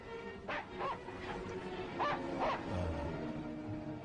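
Dog yips, barks and whimpers in short bursts around a tense dubbed confrontation, several sharp close calls over a low background rumble.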